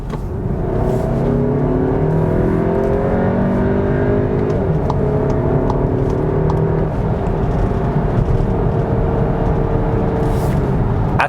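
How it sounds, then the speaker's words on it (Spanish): A SEAT Tarraco SUV accelerating in Sport mode on an open road from about 55 km/h, its engine note climbing steadily through the gears as a loud, continuous drone with road and wind noise inside the cabin. "Acelera bien, sin quejas, sin ningún problema"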